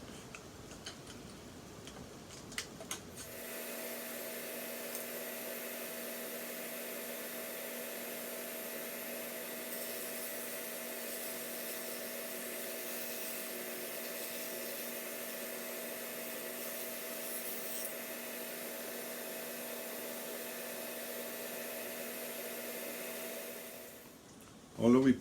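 A table saw cuts thin wooden strips for floorboards on a model of HMS Thorn. The motor's steady whine runs for about twenty seconds, then stops abruptly.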